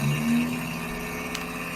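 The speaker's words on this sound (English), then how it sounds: "Guessing it's that engine simulator." A steady mid-pitched engine hum from an engine simulator in the video game Below the Stone, droning evenly at moderate volume with a faint low tonal rumble and no talk.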